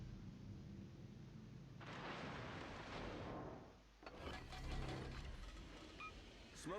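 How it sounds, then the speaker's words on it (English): Two torpedo hits strike a ship in World of Warships, a burst of dull booming impacts with metallic rattling and splashing debris, loud and close over steady game background noise. "Yeah, 2 torpedo hits, and we cause flooding."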